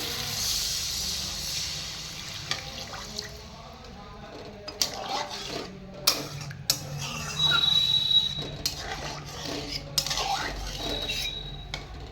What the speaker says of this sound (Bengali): মশলাটা কষে গেছে, এর মধ্যে এবার আমি জল দিয়ে দিচ্ছি।